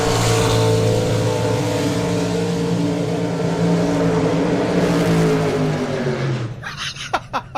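A drag racing car at a nostalgia drag racing meet does a burnout, its engine roaring loud and steady close by, then the note drops away near the end into a few sharp pops and crackles.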